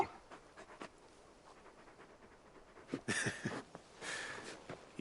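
The dog Torgal pants in Final Fantasy XVI: faint, soft breathing at first, then two clearer bursts of close, breathy huffing toward the end.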